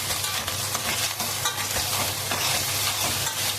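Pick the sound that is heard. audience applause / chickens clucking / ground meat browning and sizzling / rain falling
ground meat browning and sizzling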